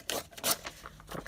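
Scissors cut through paper for a butterfly-themed altered book, making a few short, close, crisp snips and scrapes in quick succession.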